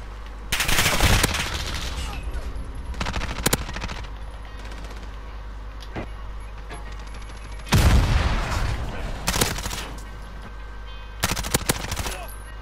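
Gunfire in a Call of Duty match, bursts of rapid automatic shots in two clusters with scattered single cracks between, loud and close, with brief talk mixed in.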